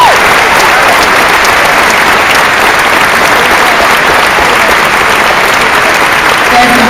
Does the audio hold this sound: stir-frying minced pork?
no